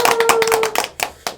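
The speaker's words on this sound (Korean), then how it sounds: "그러면 우리 박수로 환영할까요?" Students in a school setting clap to welcome teachers, a quick burst of close claps that thins into a few scattered, separate claps before stopping.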